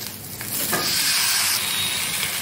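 Medium-cut chopped tomatoes land in a hot pan of half-fried coriander, giving a loud, close sizzle and hiss that swells and holds steady, with no talking.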